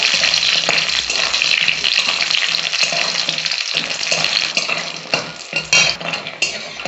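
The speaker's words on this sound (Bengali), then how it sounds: "বড়িগুলো আমি একটু লাল লাল করে ভেজে নেবো" Bengali lentil dumplings (bori) fry in hot oil with a loud, close, dense sizzle and crackle throughout, a few spatula scrapes and pan knocks breaking in toward the end.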